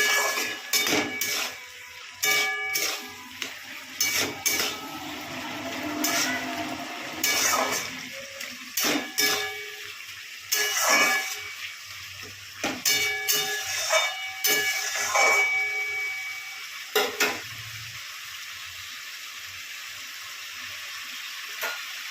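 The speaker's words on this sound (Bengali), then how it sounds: "দেখো লঙ্কা দিয়ে দিলাম, এবার একটু নেড়ে চেড়ে নেবো এটা দিয়ে" Green chillies stirred and fried in a pan, a steady hiss of frying broken by repeated scraping clatters of a utensil against the pan, close and fairly loud with no talk.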